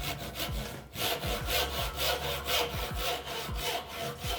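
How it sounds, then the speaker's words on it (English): A hand saw cuts down to a marked line in a board held low in a bench vise, a steady back-and-forth rasp of about a dozen strokes in a brisk, even rhythm, close and clear with no talking. "I'm going to cut directly to the line from the top."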